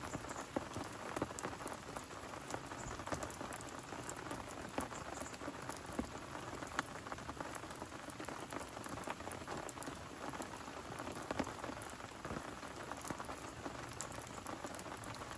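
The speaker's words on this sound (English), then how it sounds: "we got this rain for another 2 hours" Steady rain falls during an overnight carp fishing session outdoors, an even, dense patter and hiss that stays constant throughout with no voices.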